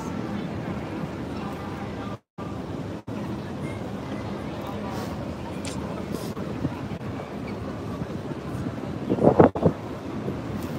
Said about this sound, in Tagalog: ang lakas na ng alon.